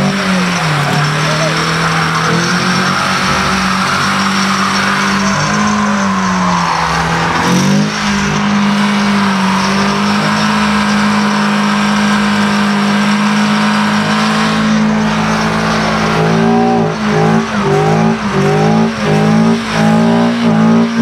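A Volkswagen Scirocco doing a burnout at a car meet, its engine droning loud and steady with wavering revs while tires squeal, and the engine pulses in rapid rev bursts near the end.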